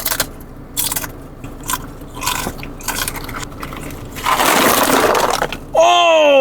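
Crunching and chewing of Al Baik potato chips in irregular bursts, close and fairly loud, with a harsher rustle toward the end before a brief tonal sound cuts in.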